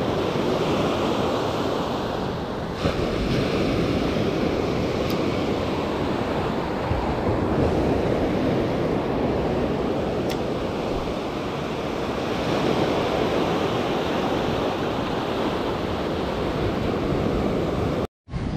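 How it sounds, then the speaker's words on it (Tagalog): Continuous wash of calm sea waves with steady wind rumble, a broad even roar that barely rises or falls, no voices. "Kalmado yung dagat ngayon."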